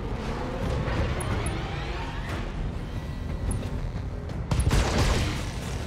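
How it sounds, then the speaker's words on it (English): Turret cannon fire in the BattleTech mech strategy game, a dense stretch of booming, overlapping shots and impacts that surge louder near the end, with no voices over it. "Turrets are cutting into the vulnerable parts that we created on them."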